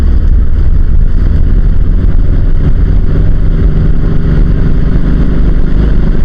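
A 1968 VW Type 3 with fuel injection pulls hard through the gears, a loud steady engine drone close to the microphone with wind rumble, filling the whole stretch with no talk.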